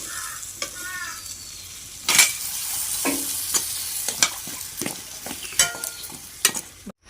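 Puri-style khaja pastries deep-frying in a karahi wok make a steady, close sizzle, broken by repeated sharp clinks and scrapes of stirring.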